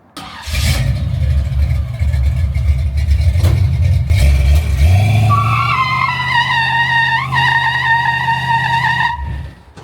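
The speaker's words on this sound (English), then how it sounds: "I'll do a burnout right now, dude." A BMW sedan roars through a burnout, its engine revving hard while the rear tires skid and squeal in a loud, sustained screech before cutting off abruptly.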